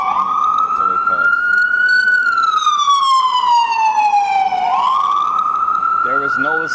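An ambulance siren wails loudly close by as it passes, its tone sweeping up and down steadily, with brief voices near the end.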